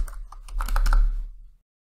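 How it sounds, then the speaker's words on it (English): A computer keyboard's plus and minus keys pressed while zooming in design software, giving a short run of close, fairly loud clicks that stops abruptly. "now I can click plus or minus on my keyboard to zoom in or to"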